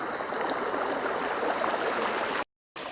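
A woodland creek runs over rocks and ice in a hemlock and rhododendron thicket, a steady close broadband rush of water that cuts off briefly near the end.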